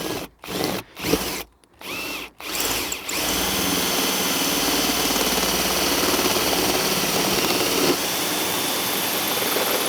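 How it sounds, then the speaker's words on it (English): A power drill whirs in a few short bursts, then runs continuously in a loud, steady whine, drilling into a caravan while fitting a flexible solar panel. "I'll let the drill do the work"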